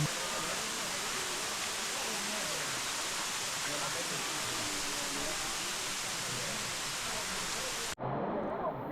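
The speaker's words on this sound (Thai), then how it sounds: "น้ำตกชั้นนี้สูงมาก สูงขึ้นไปบนหน้าผาโน้นเลย" Tall seventh tier of Erawan waterfall plunging from a high cliff, a steady, loud, broadband roar of falling water running unbroken before a brief cut near the end.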